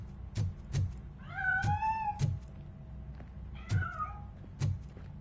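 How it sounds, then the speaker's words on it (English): A cat meows twice in the RoboCop: Rogue City video game, two rising, drawn-out cries near a piano, set among sharp thuds and knocks. "That cat must be hiding inside."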